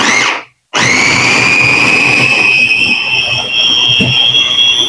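A D-Mark grinder whirs loudly as it blends avocado for ice candy, starting after a brief pause and holding a steady, high-pitched motor whine close up to the end.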